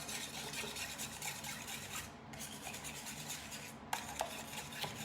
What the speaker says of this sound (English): And I'm gonna go ahead and whisk this up.